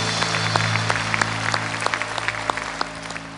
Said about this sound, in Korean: 주님께 영광의 박수 올려드립니다